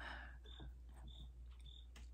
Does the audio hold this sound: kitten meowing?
no